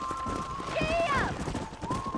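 A horse spurred into a gallop in Red Dead Redemption, hooves thudding quickly beneath a spoken line and a brief musical flourish, close and steady across the short stretch.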